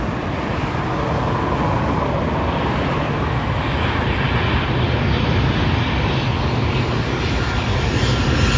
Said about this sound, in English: This is American Airlines departing to Dallas